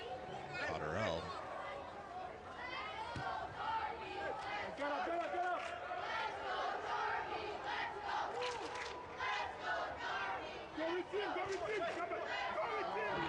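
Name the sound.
crowd vocal support at a men's soccer match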